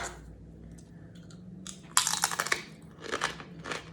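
Loud crisp crunches of corn chips being bitten and chewed up close, a burst of crackling crunching after a few quieter taps.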